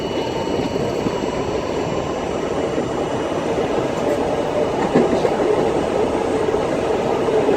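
An R32 A train on the Rockaway line in New York runs past as a shuttle train approaches, giving a loud, steady rail rumble and wheel noise throughout with no talking.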